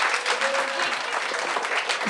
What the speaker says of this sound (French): On peut-tu l'applaudir, s'il vous plaît?